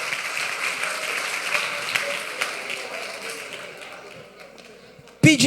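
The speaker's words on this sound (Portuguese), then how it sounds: "eu queria pedir nada mais, nada menos do que um salve de palmas" Audience applause breaks out at a talk on anxiety, a steady wash of clapping that fades gradually over several seconds before a voice cuts in loudly at the end.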